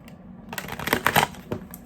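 Tarot cards being shuffled, a quick close run of dry riffling clicks and flutters lasting about a second after a short pause.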